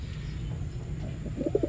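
Domestic pigeons from a newly paired couple in a loft coo softly near the end, a few low throaty notes over a steady background hum.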